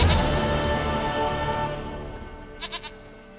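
A goat in The Witcher 3 bleats in a short, quavering burst of three or four pulses near the end, following a fading droning ambient game background.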